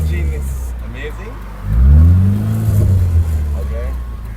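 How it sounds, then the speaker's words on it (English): A classic Austin Mini Moke idles close by with a low steady engine drone that swells into a brief rev in the middle, while people chat over it. "The sound of the engine is amazing."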